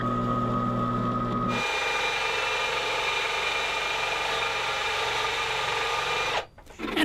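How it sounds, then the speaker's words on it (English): A power drill whirs steadily for several seconds, boring holes in a guitar body after a brief lower motor hum, then cuts off abruptly near the end. "I do need to drill the holes in the top for the controls"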